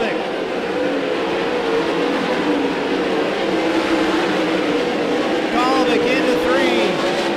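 Non-wing race cars roaring around Keller Auto Speedway in a Northern Auto Racing Club event, a continuous loud engine drone with passing cars rising and falling under a commentator's voice.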